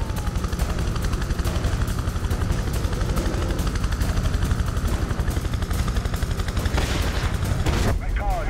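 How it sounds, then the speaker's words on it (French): Helicopter rotors thump steadily beneath bursts of rapid gunfire in the video game Prototype 2, dense and loud throughout, with scattered booms layered into the chaotic mix. "Ils ont déployé plusieurs hélicoptères."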